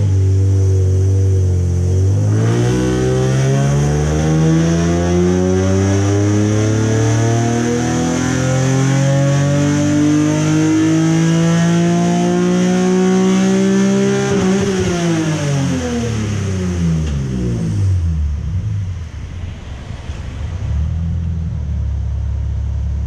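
A Nissan 370Z Nismo fitted with Z1 headers pulls hard on a hub dyno while being tuned, the loud engine climbing steadily in pitch through a long, close wide-open run, then cutting off into a lower idle burble.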